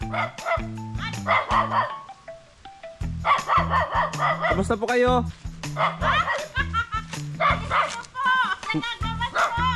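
Short, yappy dog barks break out repeatedly over lively background music while several people talk and greet each other nearby.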